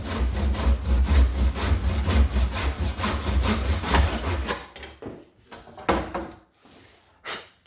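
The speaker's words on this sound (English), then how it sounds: "Hold it nice and tight, the bead, and just let the weight of the saw do its work." A hand saw cuts a wooden bead held in a mitre block, rapid rasping strokes at close range that slow and thin out into a few last separate strokes as the cut finishes.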